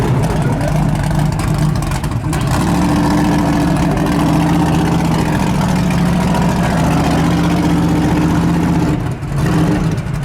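A Ford Bronco DR off-road race truck engine idles with a deep, steady rumble and a slight rise in revs, close and loud throughout with faint voices in the background.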